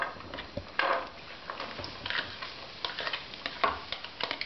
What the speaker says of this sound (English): Butter's frying, and I'm going to add the onions.